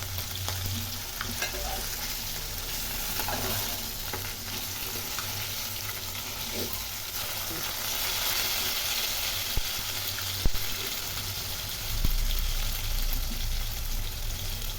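Fish frying in a small amount of oil, with a loud, continuous sizzle close by and occasional stirring or turning noises over it.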